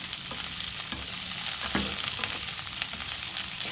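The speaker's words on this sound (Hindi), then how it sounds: "कढ़ाई में मैंने 2-3 टेबल स्पून ऑयल डाला है। इसमें वेजिटेबल फ्राई करूँगी मैं।" Frozen peas and mixed vegetables fry in a few tablespoons of oil in a kadai, giving a steady close sizzle with light stirring scrapes throughout.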